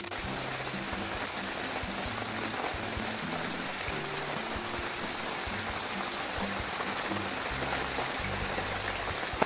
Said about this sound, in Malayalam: ആകെ ഉള്ളത് മഴ മാത്രമാണ്